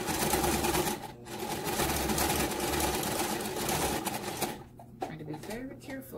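A sewing machine stitches a leather wristlet bag in a steady, close mechanical whir that runs for several seconds, slows near the end, and is briefly interrupted for a backstitch.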